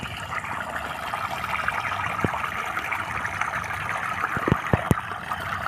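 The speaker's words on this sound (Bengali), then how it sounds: "এখানে জল বাইর হচ্ছে।" Water pours out of a full village dam in Purulia, a continuous rushing flow with a few sharp splashes and drips near the end.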